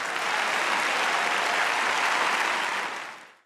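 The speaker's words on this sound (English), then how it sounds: "Let's give a massive round of applause" A church congregation gives a steady, loud round of applause, dense clapping holding evenly for about three seconds before fading out quickly, with no voices over it.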